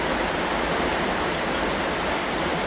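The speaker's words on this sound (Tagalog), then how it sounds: "Parang agos ng ilog sa sobrang lakas. O, oh, talagang buhos na buhos ang ulan." A dense, constant roar of heavy rain and rushing water, loud and unbroken, with no voices.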